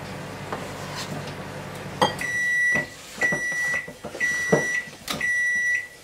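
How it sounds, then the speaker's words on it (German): A microwave oven heating chocolate couverture beeps four times in a regular pattern, each tone sustained, after a few clicks and clatters nearby; no talking. "Im Hintergrund hörte man schon die Mikrowelle"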